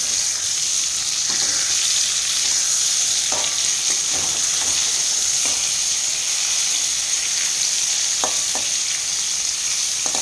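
Eggplant slices fry in a pan with a constant loud sizzle, broken now and then by soft taps of a spatula.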